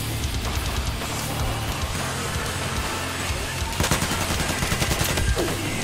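Dense, continuous gunfire from a Battlefield 4 multiplayer match, rapid automatic bursts layered over explosions and battle noise, loud and close throughout, with a sharper cluster of shots near the end.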